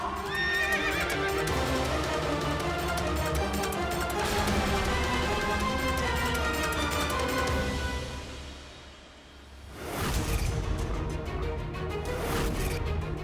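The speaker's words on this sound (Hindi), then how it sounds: "ये अश्व तो इंद्र से दूर जा रहा है" A horse gallops away with loud, rapid clip-clopping hooves and neighs, dense and close for most of the stretch. The sound dips briefly, then surges back just as strongly.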